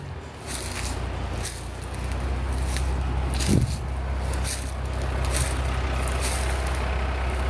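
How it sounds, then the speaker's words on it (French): Truck with air brakes outdoors, a steady low engine rumble throughout with a brief hiss of air brakes near the middle, loud and close, no talking. "J'ai comme un camion."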